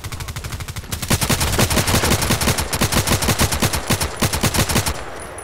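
An IRR rifle in the shooter game Contract Wars fires long rapid automatic bursts, evenly spaced loud cracks continuing for several seconds before stopping, with no voices.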